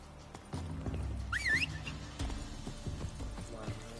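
Roach the horse's hooves clip-clop at a steady trot in Witcher 3, a continuous rhythmic patter close by, with a brief high whinny-like squeal partway through.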